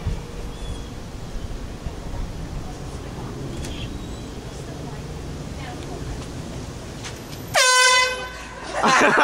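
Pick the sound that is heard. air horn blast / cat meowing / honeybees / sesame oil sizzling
air horn blast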